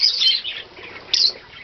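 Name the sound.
captive pet birds chirping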